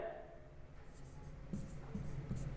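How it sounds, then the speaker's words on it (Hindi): Faint strokes of writing on a board during an English grammar lesson, in short squeaky bursts over a low room hum, quiet and slightly distant. "हम लिखते हैं"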